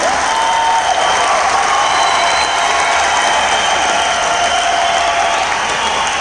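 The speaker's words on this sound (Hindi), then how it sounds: "ये तालियां कम हैं।" A large audience at a motivational event applauds loudly and continuously, a dense wash of clapping with faint cheering mixed in.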